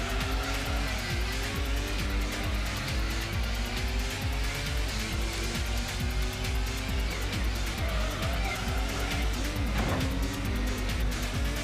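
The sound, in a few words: Toyota Supra race car slipping, Gran Turismo PS1 video game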